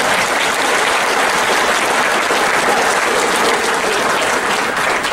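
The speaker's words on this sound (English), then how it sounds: "applause" Steady, dense applause from a large crowd at a tribal college graduation ceremony fills the whole stretch, loud and sustained without pause.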